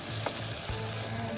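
Catfish curry with bean seeds sizzling in a pan while being stirred, an even close frying hiss with a couple of brief scraping strokes.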